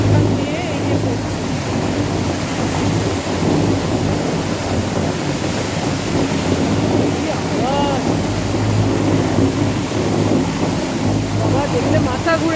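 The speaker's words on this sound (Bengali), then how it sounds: "এখান দিয়ে ড্যামের এই যে লক গেট খোলা আছে, এখান দিয়ে জল বের হয়ে যাচ্ছে" Water rushing out through the open lock gates of Khandoli Dam, a loud continuous roar and wash of turbulent water filling the whole stretch with steady intensity, close and unbroken.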